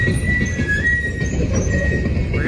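A coal train rolls past in the town of Princeton, Indiana, a steady rumble of rail cars with a thin high wheel squeal running over it, heard close from a parked car.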